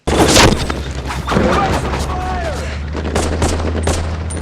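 Rapid bursts of World War II gunfire with tracer rounds crackle over a steady low rumble, with scattered louder shots punctuating continuous noise and some faint voices mixed in.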